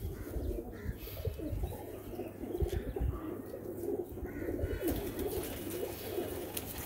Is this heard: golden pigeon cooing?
yes